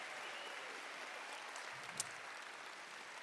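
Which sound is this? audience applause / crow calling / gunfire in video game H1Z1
audience applause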